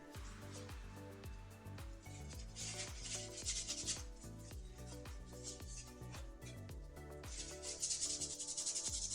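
Rubbing strokes from wiping excess off a Tokyo Marui Next Gen airsoft gun recoil shock part, a close, repetitive scraping rhythm of quick wiping passes.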